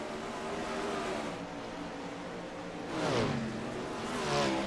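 360 wingless sprint cars race at Lanier speedway for the final lap of a heat, their engines a distant, steady droning roar that swells as cars pass with rising and falling pitch, heard from a distance without nearby talking.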